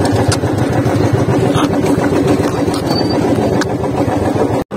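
Royal Enfield Bullet motorcycle running on a mountain ride to Parmandal, a loud, steady engine drone close to the mic, with wind buffeting and a brief dropout near the end.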